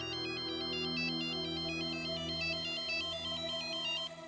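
A phone ringtone plays a repeating electronic melody of bright, rapidly alternating beeps over a steady tonal backing, close and continuous for several seconds until it cuts off near the end, with no voices.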